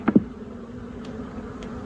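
A low drone of honeybees hums steadily throughout at an opened beehive, with a couple of brief louder buzzes near the start as bees pass close by.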